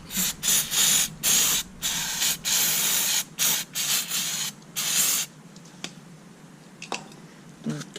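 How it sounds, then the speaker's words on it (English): Repeated bursts of aerosol brake cleaner spray on a Holden Captiva EGR part, a series of short hissing blasts in quick succession, then quieter clicks and handling noises as the spraying stops. "You can spray the brake."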